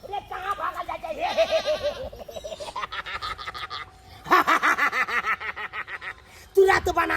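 Goat bleating in a rapid, wavering series of loud cries that stop and restart several times, close by, with voices and laughter around it.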